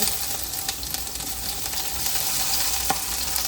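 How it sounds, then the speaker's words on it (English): Freshly poured vegetables for chow mein sizzle steadily in a hot pan, a loud continuous hiss with a few soft clicks of the pan and no voices. "So my pan is ready, and I'm going to pour half of the veggies for my chow mein"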